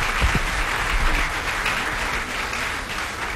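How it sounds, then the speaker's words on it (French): Steady applause from an audience of women at a daytime gathering in the DR Congo honouring the first lady, a dense, even wash of clapping throughout with no speech over it. "Encore un peu plus d'applaudissements pour la maman."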